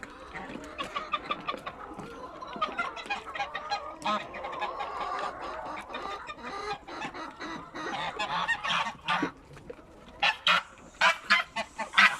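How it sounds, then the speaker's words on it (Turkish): Geese honk and cackle in a busy chorus, close and fairly loud, with clustered calls growing sharper and more frequent toward the end. "Gazlarımız suyun başında günlük temizliklerini yapıyorlar."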